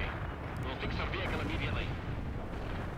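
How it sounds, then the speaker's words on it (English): Artillery barrages thunder in the real-time strategy game World in Conflict: Soviet Assault, a dense rumbling wall of booming blasts that fills the whole moment, with a voice talking over it. "There's also a lot of artillery that comes in"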